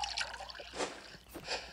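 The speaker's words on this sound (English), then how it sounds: "Then you pour the water in." Water poured into a bottle in the Toca Boca game, a short watery trickle and drip with a few splashy bursts, fairly quiet and brief with no talking.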